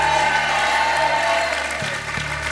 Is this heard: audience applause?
yes